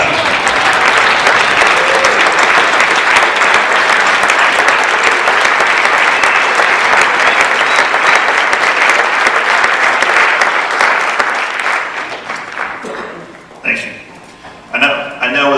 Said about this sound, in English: I would ask that you please stand up and be applauded and be recognized.